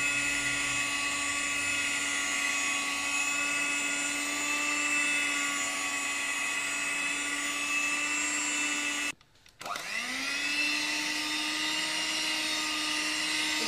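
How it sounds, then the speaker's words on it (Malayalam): An electric hand mixer whips cream for a Black Forest cake, giving a loud, steady high-pitched motor whine that cuts off briefly, then spins back up and runs on. "അപ്പൊ കുറച്ചുകൂടി നമുക്ക് ബീറ്റ് ചെയ്ത് കൊടുക്കാം."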